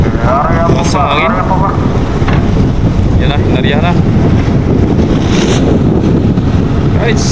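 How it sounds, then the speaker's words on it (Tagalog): Strong wind gusts buffet the microphone aboard a boat at sea, a loud, constant roaring rush with people talking over it intermittently. "Lakas ang hangin."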